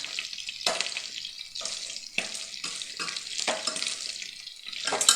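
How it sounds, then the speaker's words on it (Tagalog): Steady crackling sizzle of chicken skin frying in oil, with intermittent louder scraping stirs in the pan. "pag nagpiprito ako ng balat ng manok"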